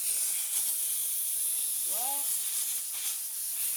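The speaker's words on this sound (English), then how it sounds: "and then spray it off with Shop Air" Compressed shop air sprays off gun parts during a firearm restoration, a steady, loud hiss of blowing air that runs the whole time, with a brief faint squeak partway through.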